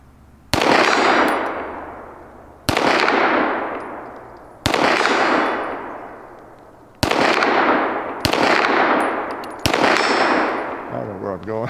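Six pistol shots from a smaller-caliber 1911 at an outdoor range, each a sharp crack followed by the ringing clang of a steel gong target, spaced about two seconds apart and decaying.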